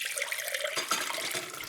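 Water splashes and pours steadily as almonds soaked overnight are drained, a brief continuous rush of liquid.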